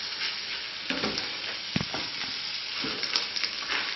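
Eggs frying in butter in a pan until golden and crisp, a close, steady crackling sizzle with a few soft scraping knocks.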